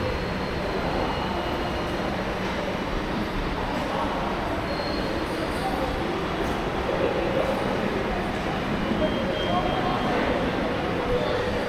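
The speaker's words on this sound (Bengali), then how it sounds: "এই যে চেন্নাই মেট্রো রেল।" A Chennai Metro Rail train runs as a loud, continuous rumble of wheels and carriage noise, with faint squeals and steady broadband roar throughout, and no clear speech over it.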